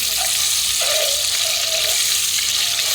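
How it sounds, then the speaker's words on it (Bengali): Eggs frying in a pan: a constant loud, hissing sizzle of hot oil with faint bubbling, steady throughout. "ডিমটাকে একটু লাল লাল করে ভেজে নেব।"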